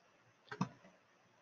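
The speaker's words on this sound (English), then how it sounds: "So I'm going to right click" Two quick, faint mouse clicks land close together against a quiet background hiss while someone works in Inkscape on a computer.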